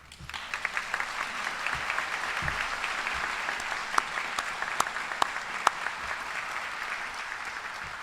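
Audience at a college criminal justice training center graduation ceremony applauds steadily for several seconds, a dense wash of clapping with a few sharper individual claps standing out, no talking over it.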